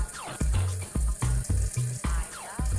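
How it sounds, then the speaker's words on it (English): Warm water sprays steadily from the extended nozzle of a Japanese bidet toilet seat, with short low thumps recurring in an irregular pulse over the hiss. "Give this button a push, and a nozzle extends, releasing a spray of warm water."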